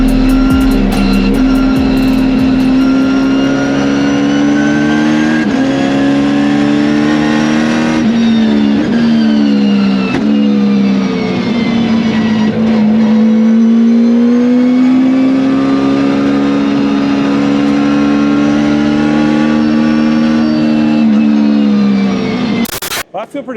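A Chevrolet Corvette C6 Z06 race car with side pipes on the Road Atlanta track, its engine roaring loudly and continuously from close by, pitch rising and falling through gear changes and throttle shifts, with no talk over it.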